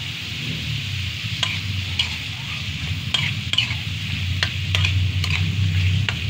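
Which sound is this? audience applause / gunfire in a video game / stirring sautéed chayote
stirring sautéed chayote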